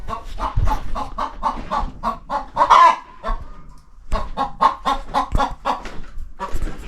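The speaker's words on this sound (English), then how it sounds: "I'm pretty sure we have a chicken living on our deck" A chicken clucks over and over, close and loud, in a steady run of short calls with a brief pause near the middle. It is living on a home deck, perched on a children's air hockey table.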